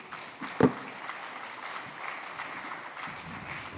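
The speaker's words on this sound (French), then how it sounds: "Vous pouvez l'applaudir." Audience applause at a French conference on territorial adaptation, a fairly quiet and steady patter of clapping from a hall, with one sharper clap near the start.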